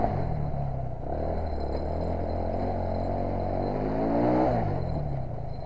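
A quad bike engine holds a rough, steady drone under throttle, rising briefly in pitch and volume near the end before settling. It sounds close and loud, with no talking.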